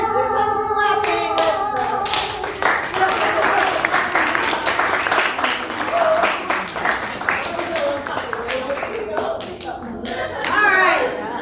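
A synagogue congregation at a Chanukah Shabbat service claps along to a song, steady rhythmic clapping mixed with singing voices throughout, close and fairly loud.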